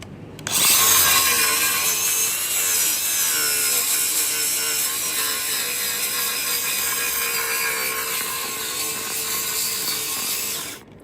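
Cordless grinder cleaning up the wood of a small log cabin: a steady, loud high-pitched whine running continuously for about ten seconds before cutting off, close to the listener.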